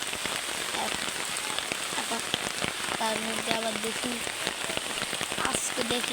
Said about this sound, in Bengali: দেখছেন কি পরিমাণে বৃষ্টি পড়তেছে